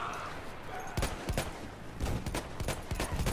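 Bursts of gunfire from a Battlefield 1 match on the Soissons map in Operations mode, with sharp repeated shots cracking in clusters over a steady battlefield din and no voices.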